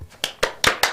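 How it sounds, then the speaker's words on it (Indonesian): An audience claps the rhythmic PPK clap pattern, four sharp, evenly spaced bursts of hand claps in quick succession, close and loud with no talk. "mari Pak Budi kita bersama-sama ikuti untuk tepuk PPK"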